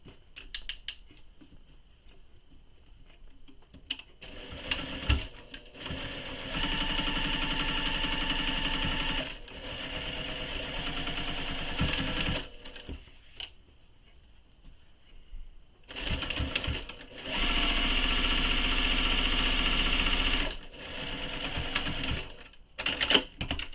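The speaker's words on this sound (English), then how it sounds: "Now we're going to top stitch the top edge using the seam allowance given in the pattern." A domestic sewing machine top stitching the upper edge of slip pockets for a satchel bag, running in two long bursts of rapid, even mechanical whirring separated by quieter pauses of handling.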